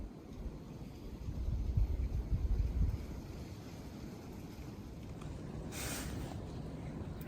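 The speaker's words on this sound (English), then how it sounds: "that wind's picked up quite a bit" Wind blows outdoors in open hunting country, buffeting the microphone with a low rumble that swells for a few seconds and then settles into a quieter steady rush. There is no talk.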